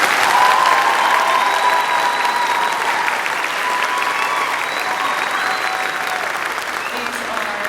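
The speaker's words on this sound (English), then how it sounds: "Let's give them a round of applause" Loud, steady applause from an audience welcoming a middle school honor choir of 6th to 8th grade singers at a concert, sustained and even for several seconds with faint voices mixed in.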